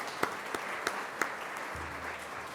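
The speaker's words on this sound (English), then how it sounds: "I'd just like to give them a round of applause and say thank you." A round of applause from an audience at a dinner event, a dense close wash of clapping with a few sharper claps standing out, steady for a couple of seconds.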